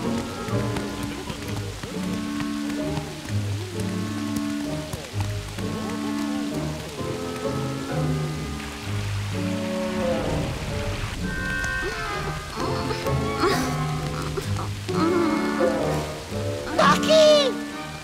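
Rain falls steadily during a storm in an animated adventure, a continuous patter and hiss beneath voices and musical tones that stay prominent throughout.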